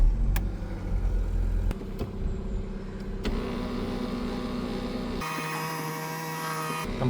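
Ex-police BMW engine idling with a steady low hum throughout, close by, with a few faint clicks and a change in tone partway through.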